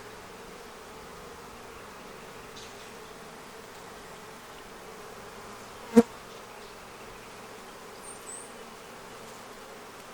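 Honeybees hum faintly and steadily during an open hive inspection, with one brief sharp tap or click partway through.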